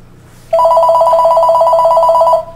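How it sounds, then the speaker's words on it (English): A telephone ringing loudly and close by, a single continuous electronic ring that starts abruptly and holds steady for about two seconds before cutting off, with no talk. "That was a phone call."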